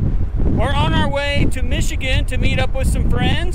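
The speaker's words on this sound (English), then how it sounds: "Pardon the wind. It's a little windy." Wind buffets a microphone outdoors near Rawlins, Wyoming, as a low, steady rumble and roar that runs the whole time under a person talking loudly and close.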